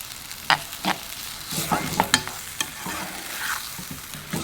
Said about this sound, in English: So I'm just going to literally bring that up to the boil.